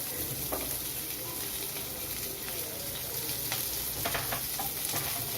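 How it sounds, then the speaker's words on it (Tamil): Steady sizzling of onions sautéing in a hot pan, a continuous crackling hiss with small pops and occasional stirring clatter, close and alone. "இதை வந்து 1 நிமிஷம் வந்து வதக்கலாம். வெங்காயம் வதங்கிச்சு."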